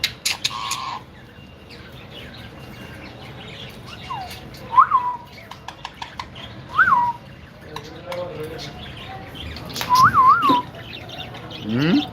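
Ringneck parrots kept in a home aviary in Dubai give short whistled calls and squawks, several distinct bursts spread across the stretch over a busy background with faint voices.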